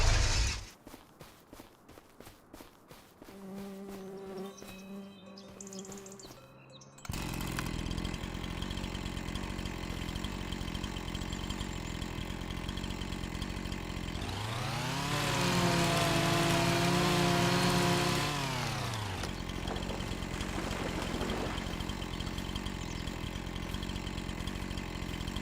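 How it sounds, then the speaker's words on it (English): A chainsaw runs continuously in Farming Simulator 25, idling with steady buzz while the player walks, then revving up to a loud, high whine for a few seconds before dropping back to idle; footsteps and other clatter are heard early on. "I really wish you could walk faster with the chainsaw"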